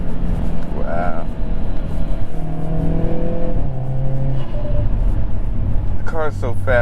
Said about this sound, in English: The car is so fast that you don't even have to push it like to get the speeds quickly.